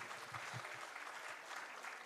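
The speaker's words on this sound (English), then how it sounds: "let's clap for the total team" Audience clapping for the Shemrock team at a school annual showcase, steady dense applause from a crowd with a few louder nearby claps standing out.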